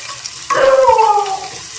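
Chopped small onion hitting hot oil in a pan, a sudden loud sizzle that starts abruptly and hisses steadily before easing off, close and alone.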